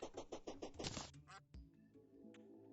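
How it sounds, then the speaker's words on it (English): A duck in the video game Terraria quacks in a rapid burst of loud, nasal calls, then a few sparser quacks follow alongside bright game chimes and effects. "I heard duck."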